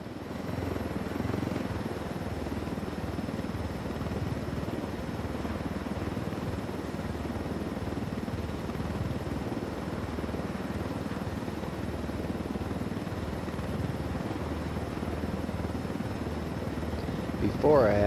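A steady low mechanical drone of helicopter rotors and engine in the video game Tom Clancy's Ghost Recon Wildlands runs throughout, loud and constant, with a slight swell near the end.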